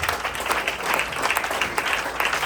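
A church congregation claps their hands together in praise to Jesus at a worship service, a dense, even wash of clapping filling the hall throughout.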